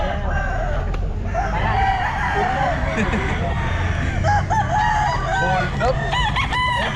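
Roosters crow repeatedly at a busy pet market, loud and close, their calls overlapping with clucking fowl while people talk nearby through the whole stretch.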